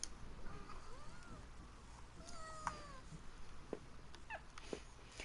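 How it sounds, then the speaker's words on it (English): Faint cat meows and yowls in a rainy, dark horror video game, several brief wavering cries scattered over a quiet background of hiss and ambience. "And a strange cat noise happened."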